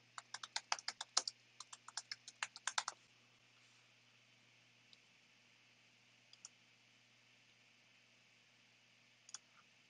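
Quick, faint clicks of fingers typing on a computer keyboard come in a short burst, then a few isolated keystrokes follow in an otherwise quiet room.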